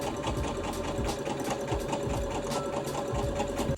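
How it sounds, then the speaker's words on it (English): A sewing machine runs a continuous straight stitch along a pinned-in sleeve of a pajama top, a steady fast mechanical whirring and rapid needle ticking, close and even, with no talking. "the sleeve is pinned in, and I'm gonna give this a straight stitch"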